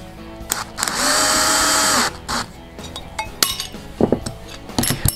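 A nylon locking nut being tightened on a HobbyKing X666 quadcopter frame, with a sustained whirring power-driver burst followed by metallic clinks and small tool clatter, close and loud, no talking.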